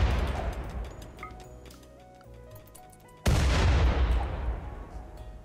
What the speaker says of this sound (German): wenn ich denn jetzt hier mit dem Orion Rocket Launcher drauf schieße